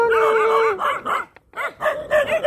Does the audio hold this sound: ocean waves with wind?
no